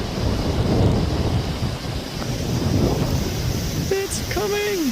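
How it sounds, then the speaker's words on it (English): Wind and waves wash steadily against the shore near a bridge before a thunderstorm, a loud broadband roar with a faint tooting sound near the end. "You can hear the wind and you can see the rain already."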